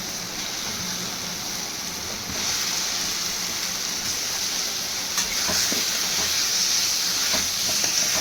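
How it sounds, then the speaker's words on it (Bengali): Potatoes go into hot spiced oil with cooked tomato masala for a katla fish curry, and a loud, even hissing sizzle swells and then holds steady, with no talking. "এবার আমি আলুগুলো দিয়ে দেবো"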